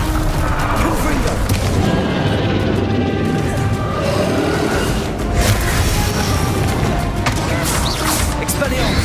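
Confringo blasting-spell explosions in the video game Hogwarts Legacy, loud booming blasts and crashes in a constant, busy battle mix, with voices speaking over the fighting.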